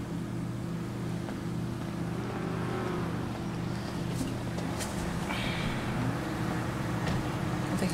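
A car cruising in the video game GTA roleplay, its engine a steady low drone at constant level for the whole stretch, with faint whooshing and a brief rising tone midway.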